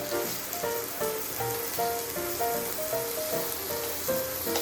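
Potato slices fry in a pan with a continuous dense sizzle and crackle, steady and close, with no talking.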